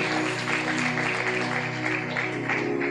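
Loud, dense clapping from a church congregation during a sermon, sustained and steady over a low droning hum throughout.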